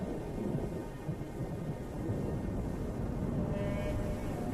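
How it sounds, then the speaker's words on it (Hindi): Heavy afternoon thunderstorm rain pours in a dense, steady roar during a hot, humid American summer, loud and continuous with low rumbling underneath and no voices. "दोपहर ढलने तक इस गर्मी और नमी से जोरदार बारिश होती है।"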